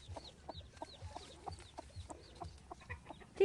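A chicken clucking in short repeated bursts outdoors, a few soft close clucks in an irregular rhythm, with no talk over it.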